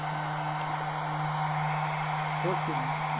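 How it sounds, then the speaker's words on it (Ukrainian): A 12-volt hair dryer runs in heating mode, powered by a small Jackery Explorer 240EU portable power station, giving a steady, continuous hum and airflow hiss throughout with a low electrical drone, while a voice briefly murmurs near the end. "другий режим це вже режим фена, обігрів"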